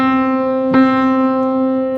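A single piano note sustained by the pedal, ringing on steadily and evenly for the whole stretch with no decay cutoff, its tone marked by one brief soft disturbance partway through.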